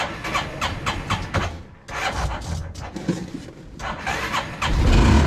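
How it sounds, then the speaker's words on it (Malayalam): A homemade Lamborghini replica car's engine cranks in a series of rough, rasping bursts with short pauses between them, then catches and runs louder at the end. "വണ്ടി സ്റ്റാർട്ട് ആക്കിയിട്ടുണ്ട്."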